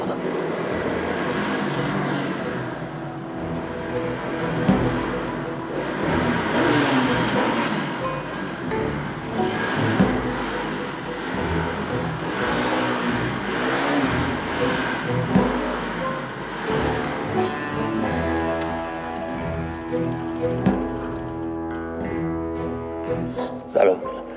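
A motorcycle engine revs and runs continuously in a scene from an Iranian TV series, loud and close, rising and falling under speaking voices.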